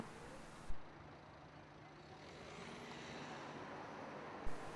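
Steady, distant road traffic rumbles along on the road toward Granera, with a vehicle swishing past midway and two sharp thumps at the start and near the end.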